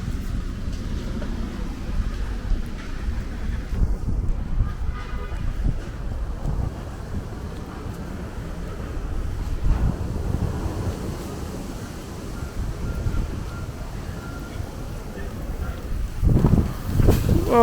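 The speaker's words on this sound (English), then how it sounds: "It is really windy right now." Strong wind on Avenue P in Midwood, Brooklyn, roars and buffets the microphone continuously, with gusts rising and falling throughout.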